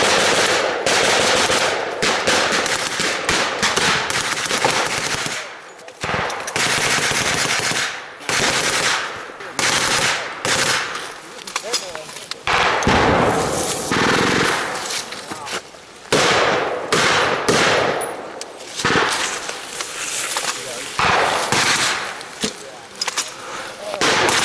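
Covering fire at a WWII re-enactment, with dense, continuous bursts of rifle and machine-gun shots and blank gunfire that is loud and close, and voices shout over the din throughout.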